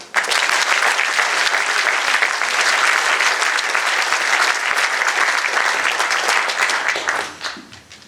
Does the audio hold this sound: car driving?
no